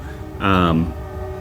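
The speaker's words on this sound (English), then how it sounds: "Train." A train horn sounds for about a third of a second, a loud sustained tonal blast standing out over a steady low background hum.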